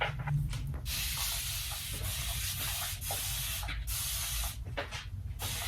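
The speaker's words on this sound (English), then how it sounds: "Now we are going to wet her hair with the spray bottle" Repeated bursts of fine misting spray from a pump bottle wetting hair, one after another in quick succession, close and steady.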